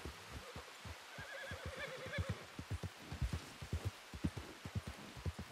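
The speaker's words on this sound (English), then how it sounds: "My horse is just being a little bit wild" Horse in Red Dead Redemption 2 whinnying in a wavering neigh, with rhythmic clip-clop hoofbeats and a hiss of rain throughout, close and fairly quiet.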